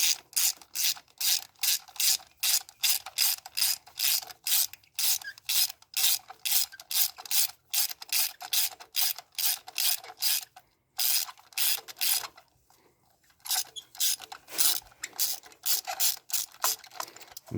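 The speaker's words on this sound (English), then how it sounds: "pop it down onto the socket. You'll kind of feel that little pop because of the rubber insert, and you'll go ahead and loosen it up" Ratchet clicking steadily as it loosens a spark plug on a 2018 Ford Ecosport, with fast, regular rapid strokes running close and loud for many seconds, one brief pause near the end and no voices.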